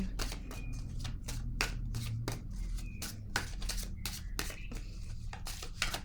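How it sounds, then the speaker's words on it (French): A deck of cards being handled and a card drawn, a brisk series of crisp paper flicks, riffles and taps in an irregular rhythm, close and fairly quiet. "Je vais piger une carte, un message de l'univers."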